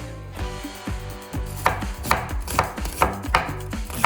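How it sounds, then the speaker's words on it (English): A knife finely chops an onion for chili on a cutting board in a rolling motion, producing a steady run of close, crisp thuds about twice a second, clear and without talk. "I like to use like a rolling motion like this to keep going and roll and keep that onion chopped up finely."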